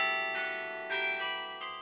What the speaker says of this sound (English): The Met's Carillon was built in 1970 and has 61 bells ranging in weight from 27 pounds to more than 3 tons